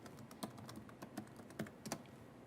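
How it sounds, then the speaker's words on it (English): Soft, quick keystrokes tap on a computer keyboard in an irregular rhythm, quiet and close. "I know I'm typing it right."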